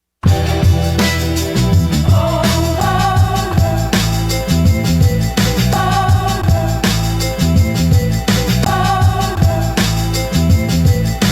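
A loud hip-hop beat built from chopped musical sample fragments over punchy drums and bass, looping steadily without any talking.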